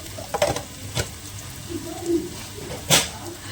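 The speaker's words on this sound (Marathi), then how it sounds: "त्याला आता फ्राय करते पण नेहमीप्रमाणे फ्राय करायचं आहे कांदा नरम होण्याच्या आधी थोडासा मीठ" Onions fry in a pan with a soft continuous sizzle, close by, broken by a few sharp clinks and scrapes of a utensil stirring, and a brief murmur of voices in the background.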